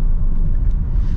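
A Skoda Octavia 1.6 TDI with DSG gearbox overtaking on an open road, heard from inside as a loud, steady low engine and road rumble with no voices.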